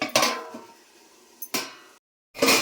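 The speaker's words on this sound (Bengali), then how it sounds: "এখন ঢেকে দিচ্ছি।" A metal lid goes onto a cooking pot while a tengra fish curry is being fried down. There are two separate clanks of metal on metal, each ringing briefly before it fades, with another clatter at the end.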